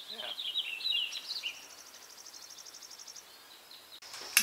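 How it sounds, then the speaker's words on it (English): Birds singing at a riverside provincial park campsite near Lytton, British Columbia: high chirps and a run of rapid trills, fairly distant and light, with no talking. "A nice spot to listen to the birds sing."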